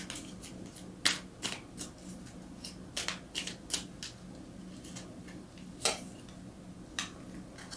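Tarot cards being shuffled, giving a series of quick, crisp riffling bursts and taps at irregular intervals over a faint low hum, close and fairly quiet, with no talking.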